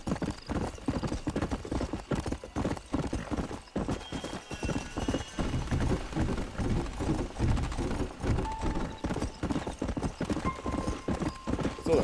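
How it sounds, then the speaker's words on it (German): Horse hooves clip-clopping steadily while riding in Red Dead Redemption, a continuous rhythmic gallop under game ambience, with a brief whinny-like tone mixed in. "So, dann reiten wir jetzt wieder zurück nach Mexiko"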